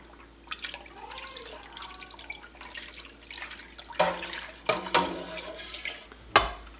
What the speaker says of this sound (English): we're gonna stir our starter in